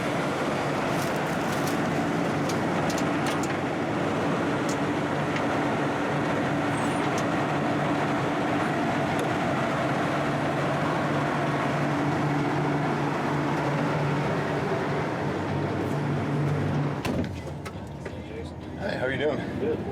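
Inside the cab of a John Deere S690 combine harvesting corn, the machine drones in a steady, loud, enclosed hum with a low tonal whine, then drops off abruptly near the end; voices talk over it.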